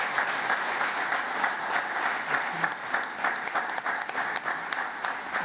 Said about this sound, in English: Give us a very loud applause.